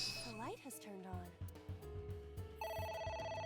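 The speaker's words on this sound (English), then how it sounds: "Oh, A phone. Should I pick it up? ring, ring, ring. Phone call." A telephone rings in a video game, a bright electronic trill repeating several times over the game's background music and sound effects while a person talks over it.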